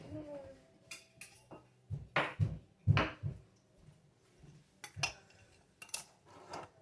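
Lids clinking and clattering onto homemade pickle jars on a kitchen counter, a series of sharp metallic and glassy knocks in irregular bursts, close and moderately loud.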